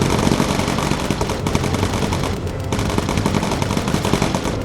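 Gunners aboard a bomber in Bomber Crew, a World War II video game, fire sustained, dense machine-gun bursts at enemy fighters, loud and continuous, with the steady rattle of guns filling the whole moment and no talking.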